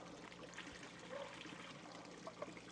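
Water flushing and trickling through a system at a cultural center, a faint continuous gurgling trickle with soft splashes, distant and quiet.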